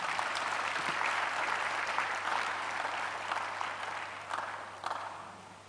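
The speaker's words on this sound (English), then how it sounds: "Somebody attempt clapping your hands" A church congregation claps their hands together in dense, steady applause that fills the room, holding loud throughout and tapering slightly toward the end.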